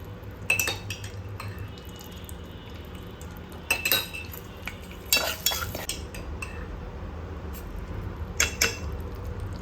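A metal spoon stirs roasting semolina in a pan as ghee goes in for mango sheera, giving close scraping and sharp clinks against the pan in irregular bursts, with no talking.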